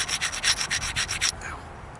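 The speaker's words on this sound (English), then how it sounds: "This is the kind of stone you just have to grind, grind, grind." A mookaite flint-knapped point is ground along its edge on an abrasive, making steady, rhythmic rubbing strokes about eight times before it stops, close and fairly soft, with no voices.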